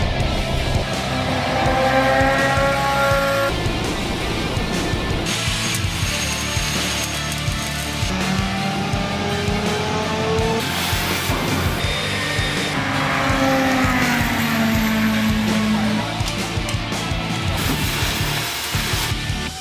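A 1978 Jaguar XJ6 engine runs loud and close for about twenty seconds, its pitch rising and falling in sweeping revs over a constant roar.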